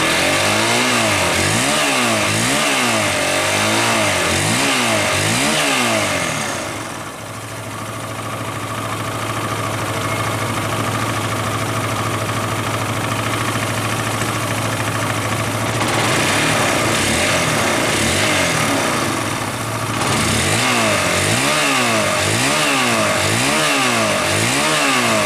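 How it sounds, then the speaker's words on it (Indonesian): A Honda CB150 motorcycle engine with radiator coolant spurting from a head fault, revved hard and loud up close in rising and falling surges, easing to a steady high idle in between, then revved again, with no one talking. "Kita gas dulu ya."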